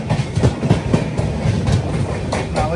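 A train passes close by with a steady heavy rumble and a rhythmic clickety-clack of wheels on the rails, no voices over it.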